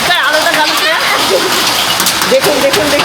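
Hailstones fall with heavy rain and strong wind in Kolkata, a dense close patter and splash running throughout while a person talks excitedly over it.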